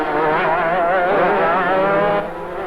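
Racing motorcycles at the 1984 New Zealand Lep International sweep past in a loud, whining roar, engine pitch rising and falling as they go by close, with no one speaking.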